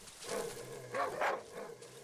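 A few short barks and yips from hostile dogs in the Darkwood video game, brief, fairly quiet and close, heard alone without talk.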